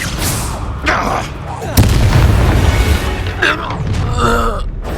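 The Confringo fire spell bursts in a Hogwarts Legacy duel at an estate, a sudden loud boom that follows grunting and effort sounds and is followed by rumbling combat noise and further vocal strain.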